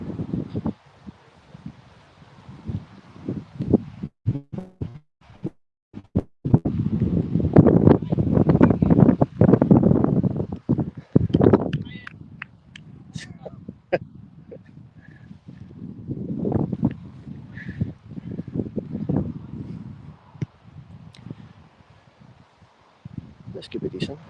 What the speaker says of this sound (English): The wind is coming across down this way.